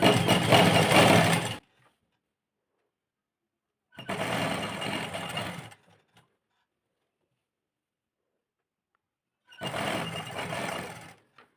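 A sewing machine stitches a doubled neck strip in three short runs of a few seconds each, separated by silent pauses, close and moderately loud.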